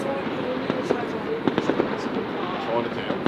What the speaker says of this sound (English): That might have been an unofficial firework display.